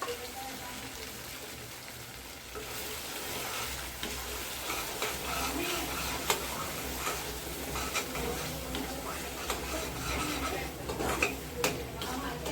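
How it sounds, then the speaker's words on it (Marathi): Masala mixture being stirred and turned in a hot pan, with scraping and clinking of a spoon against metal over a low continuous sizzle, scattered sharp knocks throughout. "मसाला एकजीव होण्यासाठी अजून 1-2-4 मिनिट चांगलं खालीवर करून घेते"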